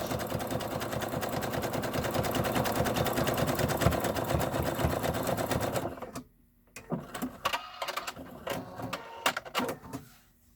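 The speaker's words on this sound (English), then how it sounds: "I'm going to zigzag this so it's not going to fray" Sewing machine running a zigzag stitch off the raw fabric edge to stop fraying, making a zipper bag; a steady loud whir that runs for about six seconds, then stops, leaving a few short clicks and thread-clipping sounds.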